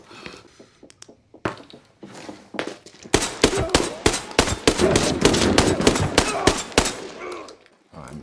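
Hip-fire gunshots in the shooter Arena Breakout: Infinite start as a few scattered shots, then become a loud, rapid burst of sharp automatic fire lasting several seconds, close by, with brief talk before it.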